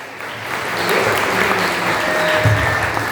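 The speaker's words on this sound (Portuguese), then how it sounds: "Palmas para Jesus, igreja." A church congregation claps steadily together, a dense, even wash of applause filling the room for a few seconds.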